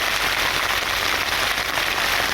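Heavy rain pours down steadily on and around a camping tarp at a roadside stealth campsite, a loud, dense, continuous hiss with no pauses.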